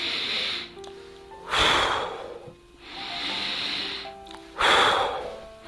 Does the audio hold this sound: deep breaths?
yes